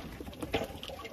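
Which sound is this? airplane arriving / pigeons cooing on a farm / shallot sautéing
pigeons cooing on a farm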